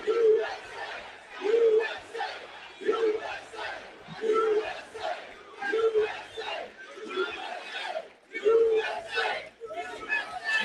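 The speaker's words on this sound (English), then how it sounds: "Well, this is a nice crowd." A large crowd at a political speech chants and cheers in loud, rhythmic bursts about once a second, repeating steadily throughout.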